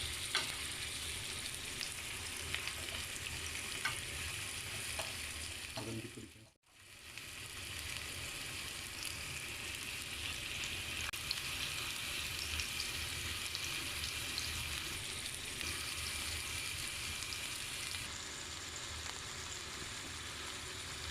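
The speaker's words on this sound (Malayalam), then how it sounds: "ഇനി നമുക്ക് ഈ പാനിൽ കുറച്ച് എണ്ണ ഒഴിച്ചു കൊടുത്ത് കബാബ്സ് എല്ലാം ഇതുപോലെ ഫ്രൈ ചെയ്ത് എടുക്കാം." Turkish Adana beef kebabs fry in oil in a grill pan with a steady, close sizzle that continues throughout, broken briefly by a short drop in the middle.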